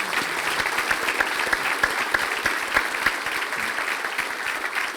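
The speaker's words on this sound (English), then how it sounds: "If we could please have a round of applause for all of our speakers" Audience applause for the speakers at an event, a dense steady patter of many hands clapping for several seconds, even in loudness throughout, with no voices standing out.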